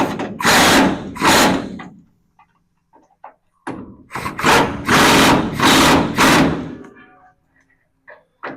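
A power wrench works bolts on a VW bus in loud short bursts: two whirring runs, a pause, then a cluster of several more, with faint clicks between.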